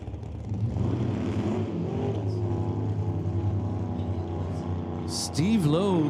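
A drag racing car at an NHRA Super Gas event drones down the track at steady engine pitch, rising into a whining climb at the end, while a track announcer talks over it.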